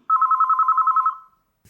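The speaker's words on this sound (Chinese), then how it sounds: "楚小野那个臭娘们居然给我打了10多个电话。" A telephone rings with an incoming call, a single bright electronic trill of rapid pulses lasting about a second, close and alone, then stops.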